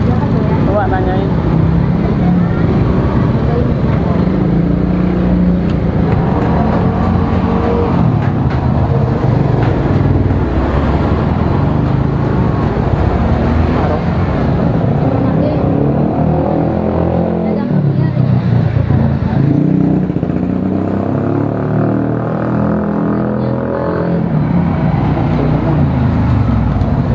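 A Honda Scoopy scooter being ridden through traffic, its engine and wind noise a continuous loud drone with passing vehicles around and voices talking over it throughout.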